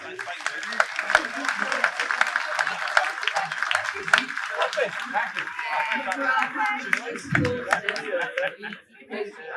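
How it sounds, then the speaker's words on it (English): Applause breaks out among an audience at a Caerau Ely rugby club gathering, scattered claps mixed with chatter and some laughter, with voices prominent throughout. "Can we give all those a round of applause?"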